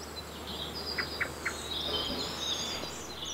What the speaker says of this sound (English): Here's a willow warbler,